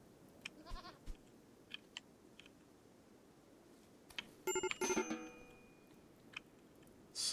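A goat bleats in the video game Rimworld: short, bright game-audio bleats and clicks scattered over a steady low background, with a louder burst in the middle and no talking.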